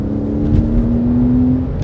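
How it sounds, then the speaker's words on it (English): A Porsche 987.2 with a PDK gearbox in manual mode holds a steady engine drone with a sustained low tone across paddle downshifts from sixth to third, heard close with no talk. "with the paddles here, I can shift it down, 5th, 4th, down to 3rd"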